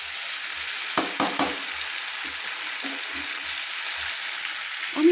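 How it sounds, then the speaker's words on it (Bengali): Chunks of potato and sweet pumpkin are stir-fried with spices in a pan, a constant sizzle broken by a few sharp scrapes and clinks of the stirring spatula, with no talk. "এইভাবে নাড়তে নাড়তে কিন্তু আলু আর মিষ্টি কুমড়োগুলো কিন্তু ভাজা হয়ে একটু মশলার সঙ্গে কষানো হয়ে যাবে"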